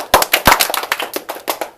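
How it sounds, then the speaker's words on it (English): A group of people clap together in a quick, slightly ragged burst of a dozen or so sharp, close claps over under two seconds, rather than two clean unison claps. "Now, everybody clap 2 times."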